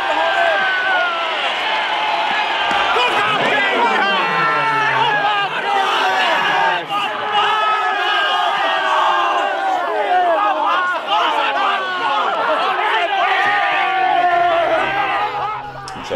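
Baseball stadium crowd in a Finnish pesäpallo game roaring and shouting after a home run, a loud, sustained wall of cheers and yelling that holds for the whole stretch with no clear talk.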